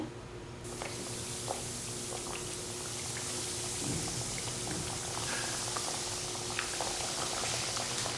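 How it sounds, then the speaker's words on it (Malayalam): Omelette fritters frying in hot oil over a medium flame give off a steady, close sizzle and crackle that runs without a break, with small pops scattered through it. "നമുക്ക് അതിനകത്തേക്ക് ഇതിട്ട് ഫ്രൈ ചെയ്തെടുക്കാം"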